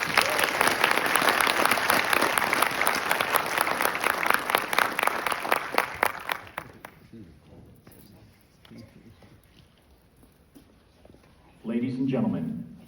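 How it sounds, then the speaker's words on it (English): A large audience at a military graduation for drill sergeant leaders applauds loudly and steadily for about six seconds, then fades to murmur before a brief burst of voices returns near the end. "Please join me in a round of applause for their hard work and dedication."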